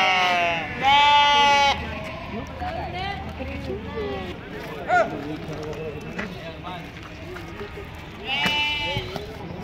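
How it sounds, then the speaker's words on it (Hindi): Goats bleat in loud, wavering calls at a busy livestock market in Deonar, with several cries close by over a crowded background of voices and movement. "बकरी है"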